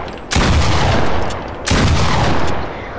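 Pump shotgun blasts in Fortnite Creative boom out loud and close, two heavy shots about a second and a half apart, each trailing into a long rumbling decay.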